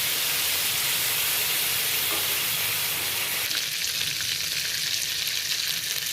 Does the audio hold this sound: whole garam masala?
yes